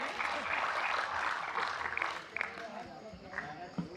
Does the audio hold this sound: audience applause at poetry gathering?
yes